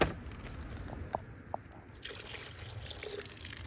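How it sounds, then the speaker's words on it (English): Water poured into a bucket trickles and drips faintly and steadily, with a few brief splashes standing out over a quiet background. "Put more water in your bucket."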